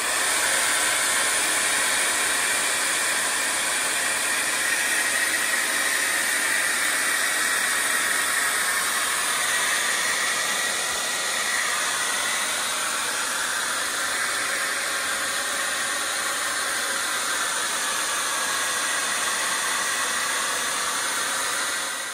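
A hair dryer powered through an inverter from a LiPuls 12 V 100Ah LiFePO4 battery blows steadily with a constant loud whooshing hiss, its pitch wavering slightly, running without pause and no voices.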